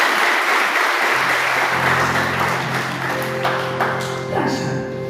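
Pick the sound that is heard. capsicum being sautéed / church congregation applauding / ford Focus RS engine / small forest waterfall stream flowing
church congregation applauding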